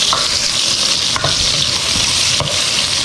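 Ginger and onion sizzle loudly in hot oil, a dense close hiss with a few stirring scrapes along the bottom of the pan.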